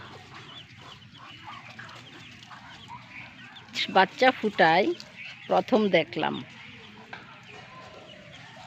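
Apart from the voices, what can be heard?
Chinese ducks with ducklings calling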